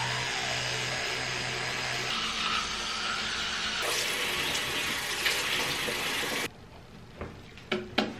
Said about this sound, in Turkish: Bir ellerimi yıkayayım bir dakika.